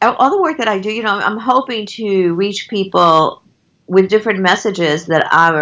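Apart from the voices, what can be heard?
No everyday noises stand out.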